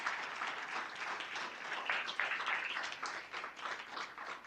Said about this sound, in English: Let's give President Trump a round of applause